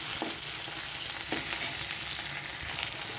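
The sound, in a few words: chopped tomatoes frying and being stirred with onions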